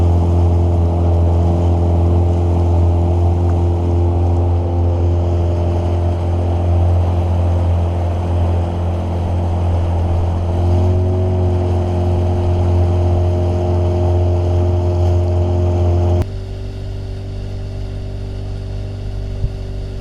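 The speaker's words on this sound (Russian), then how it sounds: "Итак, будем в пол газа обкатывать мотор 3 часа, ребята" A Suzuki 9.9A/DT15A outboard motor runs steadily at half throttle during break-in, a loud continuous drone with a slight pitch dip near the end, alone with no voices.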